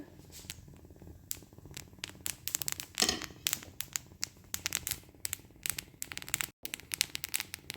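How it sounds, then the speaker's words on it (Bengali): Sesame seeds dry-roasting in a pan pop and crackle in quick, irregular ticks, faint and close, with no talking over them. "আমি যে তিলটা নাচানাচি করছে তার আওয়াজটা শোনাতে চাই"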